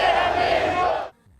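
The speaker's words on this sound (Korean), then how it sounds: "대한민국을 외치는 힘찬 응원 소리에 전율이 흐릅니다." A dense street crowd gathered at Gwanghwamun Square in Seoul for 2018 World Cup street cheering, shouting a Korea cheer in unison, loud and sustained before cutting off into quiet.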